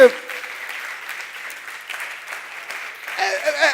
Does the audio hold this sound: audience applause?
yes